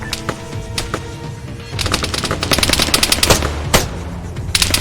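Rapid bursts of machine gun fire crackle through an ARMA 3 firefight, dense volleys of sharp cracks overlapping in quick succession, loud and close, with a single sharper shot standing out near the end.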